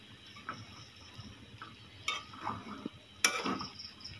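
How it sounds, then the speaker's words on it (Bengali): Vegetables being stirred as they fry in a pan, heard as faint, irregular scrapes and clinks of a utensil against the pan over a soft sizzle, with one sharp clack near the end. "এক হাত দিয়ে নাড়তে কষ্ট হচ্ছে।"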